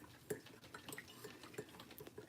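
A spoon stirs honey into a cup of coffee, quiet irregular clinks and scrapes against the cup, close and faint.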